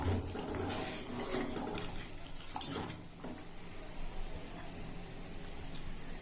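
Rasam with tamarind water, salt and spices simmering in a pot on the stove, a steady soft bubbling and hiss that carries on with no talking.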